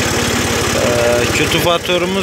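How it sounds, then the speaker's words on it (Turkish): A Massey Ferguson 266 tractor engine runs steadily in a sugar beet field, its low, even throb continuing beneath someone speaking Turkish close by. "Traktörümüz 266 Massey Ferguson."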